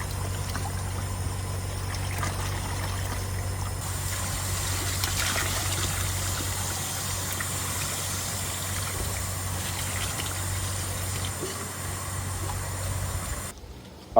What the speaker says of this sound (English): I got black water coming back along with chunks of grease